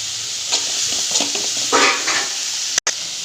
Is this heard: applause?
no